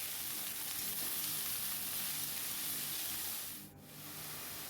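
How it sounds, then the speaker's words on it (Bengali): Greens frying in hot oil with nigella seeds, dried red chilies and slit green chilies, giving a steady close sizzle that dips briefly near the end. "তো দেখো এখানে আমি কালো জিরে আর শুকনো লঙ্কা ফোড়ন দিলাম"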